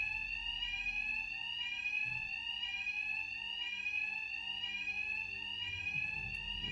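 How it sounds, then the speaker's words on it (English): An alarm rings in Batman: Arkham Knight. It is a steady, shrill electronic tone that cycles through repeating pulses and carries on without a break for the whole stretch, loud and alone. "Two-Face's thugs won't hear me over the alarm."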